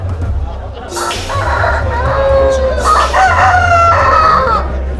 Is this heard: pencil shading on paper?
no